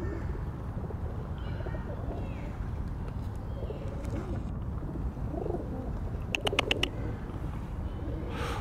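Park pigeons coo softly and intermittently over a steady outdoor background, with a brief clatter of wings or rustling near the end.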